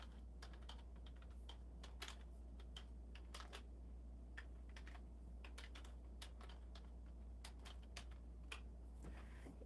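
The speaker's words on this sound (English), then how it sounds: "let me type in hello" Someone types on a computer keyboard during a live stream. Keys tap in quick irregular bursts with brief pauses, close and clear over a steady low hum, and nobody speaks.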